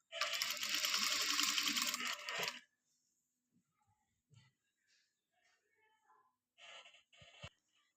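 A sewing machine stitches along buckram on a salwar cuff. A loud, close whir runs for about two and a half seconds, then stops, followed by faint handling clicks and a brief softer stretch of machine noise.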